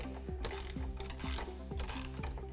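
A wrench ratchets a windshield bolt tight on the cage of a Polaris Ranger XP 1000 while an RBO front folding windshield is fitted. Quick repeated metallic clicks come in bursts, close and steady, with no voices.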